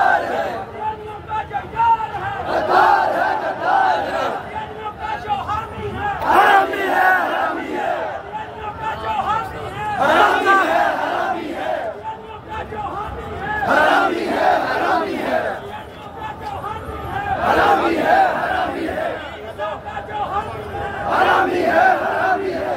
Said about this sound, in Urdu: جہاں پہ کارکنان نعرے لگا رہے ہیں